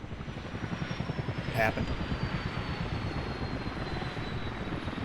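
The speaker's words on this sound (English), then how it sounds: "The one helo scared off the other helo." Video-game helicopters thud with a fast, rhythmic rotor chop that stays loud and continuous, while a voice speaks briefly over it.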